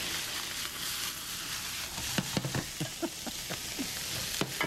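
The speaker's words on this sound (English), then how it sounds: "keep this frying pan on really high until the shrimp kind of sizzles down a little bit" Shrimp fry in olive oil in a very hot pan with a steady loud sizzle, broken by sharp pops and crackles as the pieces settle and are stirred.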